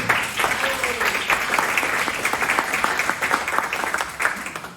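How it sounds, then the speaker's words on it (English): At a citizen of the year dinner, audience members clap in a sustained round of applause, dense and even, with scattered sharper claps standing out from the steady mass. "So let's give them a round of applause, too."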